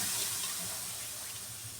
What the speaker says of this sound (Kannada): ಸ್ವಲ್ಪ ನೀರು ಚಿಮ್ಕಿಸ್ಬಿಟ್ಟು ಸ್ವಲ್ಪ ಒರೆಸ್ಕೊಂಡು ಬಿಡ್ಬೇಕು